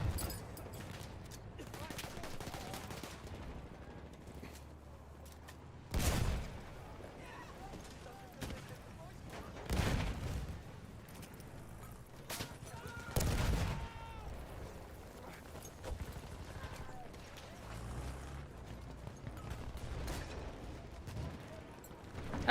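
Battlefield 6 multiplayer battle with thudding airstrike impacts and scattered gunfire, several heavy booms rising above a steady background of distant shooting, with people talking throughout.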